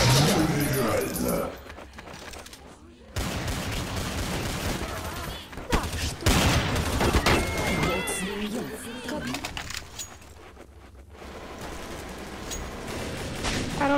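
Counter-Strike: Source gunfire crackles in rapid bursts and volleys, loud and close, with game voices and effects mixed in, including headshot announcements.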